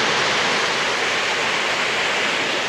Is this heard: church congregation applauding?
no